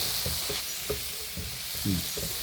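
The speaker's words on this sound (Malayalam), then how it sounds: "ഇതിനോടൊപ്പം തന്നെ മുളക് പൊടി എണ്ണയ്ക്കകത്ത് നമുക്ക് കൃത്യമായിട്ട് എടുക്കാം" Chili powder sizzles in hot oil for a coconut beef curry, a soft continuous hiss broken by several low spoon knocks and stirs against the pan.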